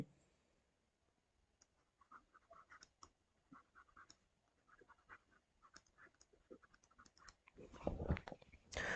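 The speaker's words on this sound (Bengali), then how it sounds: "তো আমি এখানে উত্তরটা লিখছি" A pen scratches out an answer by hand, with soft, irregular strokes and taps at close range, quiet throughout, and a louder rustle near the end.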